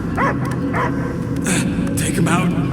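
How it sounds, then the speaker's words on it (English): Dog barking and yipping in the Guardians of the Galaxy video game, short repeated barks with faint whimpers mixed into a dense game soundscape of music and effects, with voices speaking. "I hear only barking"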